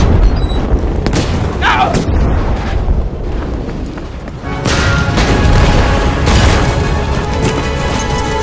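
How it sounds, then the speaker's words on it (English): Bombs going off in the Battlefield V mission Under No Flag, with heavy booming blasts and rumbling debris filling the whole stretch and a louder burst near the middle, while voices talk over the din. "Yeah, that's because my bombs went off."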